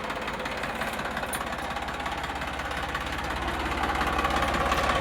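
A Sonalika DI 740 double-clutch tractor engine idles steadily with a deep, even rumble and fine rhythmic knock, close and continuous for the whole stretch, with no voices.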